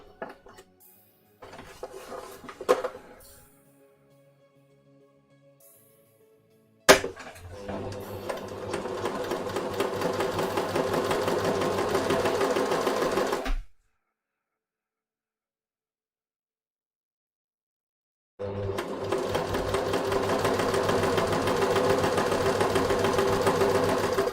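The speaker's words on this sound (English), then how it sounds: "I need a shorter stitch length because this is not ending where I want it to" A sewing machine stitching the placket of a pin-tuck shirt runs in two long, steady, whirring bursts separated by silence, after earlier scattered clicks and handling sounds, close by.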